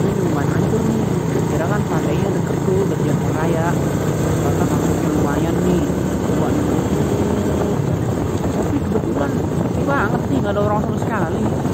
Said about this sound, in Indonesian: sekarang gue naik motor ke pantai Bagedir